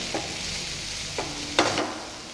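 Onions and tomato sauté in a hot pan for a Nawabi chicken dish, giving a steady sizzle broken by a few sharp clinks and scrapes of a spoon stirring against the pan, with no voices.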